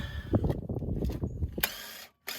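A ratchet wrench clicking while loosening 19 mm brake caliper bolts on a C5 or C6 Corvette, close and fairly loud, with rapid ratcheting bursts and a brief pause before a final sharp rattle.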